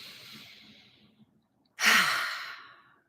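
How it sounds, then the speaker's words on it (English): A person draws a long, slow deep breath, then releases it in a loud, breathy exhale that fades out gradually, close and alone with no talking. "take a deep breath"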